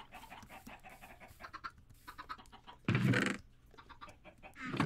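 Chickens cluck softly in a Minecraft hardcore world, with scattered short clucks and one louder burst partway through.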